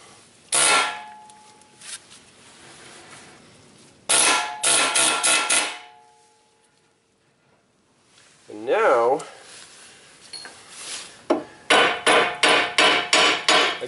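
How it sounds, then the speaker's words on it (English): An air hammer fitted with a chisel bit driven into a Ford Escape steering knuckle to spread it, several loud bursts of rapid metallic hammering separated by quiet pauses, with a short high squealing sound partway through. "I'm going to take an air hammer with a chisel bit and drive it right in the middle here to spread this knuckle apart"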